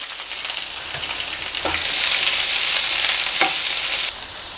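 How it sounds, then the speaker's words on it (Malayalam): Dried red chillies, curry leaves and chopped onion frying in hot oil, a loud continuous sizzle that swells midway, with a couple of spatula scrapes before it drops off near the end. "നമ്മൾ ഇതിലേക്ക് രണ്ട് വറ്റൽമുളക് പിന്നെ കുറച്ച് കറിവേപ്പില എല്ലാം കൂടി ഒന്ന് മൂപ്പിച്ചെടുക്കാം"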